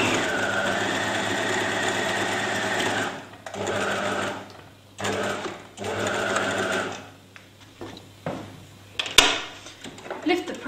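A sewing machine stitches a seam and backstitches at the ends: a steady mechanical whir in several runs broken by short pauses, with small clicks and handling noises toward the end.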